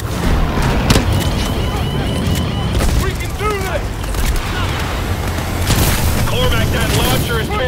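Rocket launcher explosions rumble through a Call of Duty: Advanced Warfare battle, loud repeated booms and blasts over constant roaring wind and gunfire, with radio chatter and shouted voices throughout.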